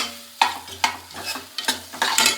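Potatoes stirred into a sizzling pan seasoned with turmeric and salt: a steady frying hiss broken by about five scraping spoon strokes at a loose rhythm, close and clear with no talking.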